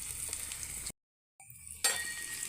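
Beef sizzles and fries in a pan for kala bhuna, a steady crackling hiss that cuts out briefly and then resumes, with a faint metallic clink.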